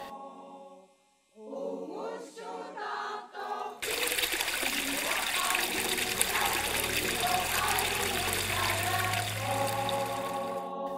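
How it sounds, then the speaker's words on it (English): Melting snow water dripping and trickling in winter at Sisimiut, Greenland, a steady close gurgling flow that starts after a short stretch of soft tonal sound. "Melting water drips and murmurs everywhere."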